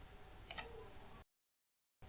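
A single computer mouse click lands on an OK button, one quick faint double-tick followed by a stretch of dead silence.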